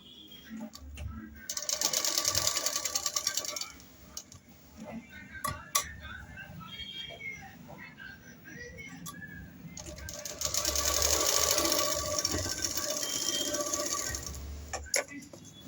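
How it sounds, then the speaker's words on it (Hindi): A sewing machine stitches a baby dress in two loud bursts of rapid clattering, with quieter pauses between them filled by light mechanical clicks and handling. "और थोड़ा सा दबाते हुए सिलेंगे, ज़्यादा हम नहीं दबाएंगे"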